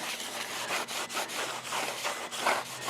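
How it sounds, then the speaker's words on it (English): Grease and factory anti-rust coating are wiped off a Jeep engine part with a rag and brake and parts cleaner, making a steady, close scrubbing and rubbing sound in repeated strokes with no talking. "Clean all my grease off and the anti-rust coating they put on here"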